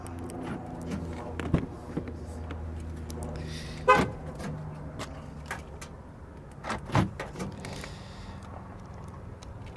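A 2014 Ram 1500 Limited 4x4 pickup truck gives a short horn chirp as it unlocks, faint against quiet surroundings, with soft door and handling clunks scattered around it.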